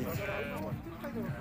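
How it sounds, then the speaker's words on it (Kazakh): Lambs bleat at a livestock market, a few short calls rising over a busy background while someone talks close by. "Міне сары тоқты. Қара тоқты."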